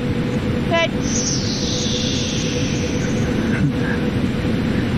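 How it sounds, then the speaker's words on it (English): An airliner's engine spools down in a flight simulator game: a high whine slides slowly downward over a steady, loud broadband roar, with a brief chirp and a faint thud along the way. "That was my plane shutting down."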